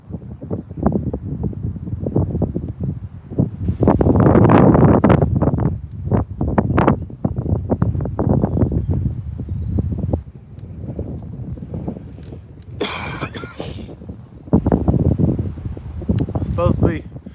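Strong wind at a lakeside or shore fishing spot gusts and buffets against the microphone in uneven surges, while someone talks through much of it.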